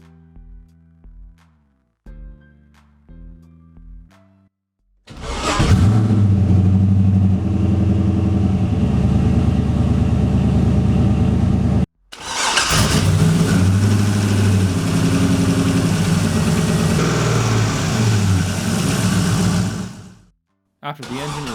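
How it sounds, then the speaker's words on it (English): A car engine cranks a few times, then catches and roars loudly, running steadily before a brief cut and more sustained revving. "and the engine is started up."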